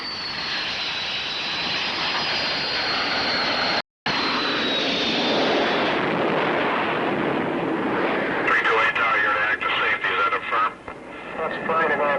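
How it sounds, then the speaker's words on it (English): A T-2C Buckeye jet trainer makes a touch-and-go landing on a carrier deck, its loud continuous jet roar with a high whine dominating, briefly cut, then radio-style voices chatter over the engine noise. "the first time would be a touch-and-go landing without the tail hook"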